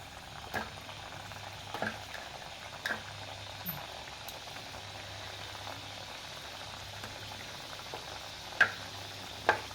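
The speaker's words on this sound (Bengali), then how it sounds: "সাদা তেলে ভাজবেন বন্ধুরা" Pieces of designed pitha fry in white oil, a faint, steady bubbling hiss broken by a few soft pops and ticks, quiet and with no one speaking.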